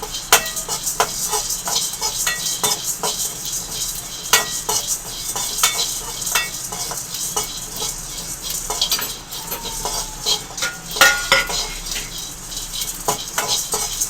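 Fenugreek and mustard seeds dry roasting in a pan for a village-style roasted tomato rasam, with steady scraping and stirring, light seed crackle, and frequent utensil clinks, close and moderately loud.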